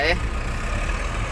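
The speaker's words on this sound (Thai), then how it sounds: "รถไถ" A steady low engine rumble runs throughout, close and continuous, from an idling tractor, with a brief higher tone at the very start.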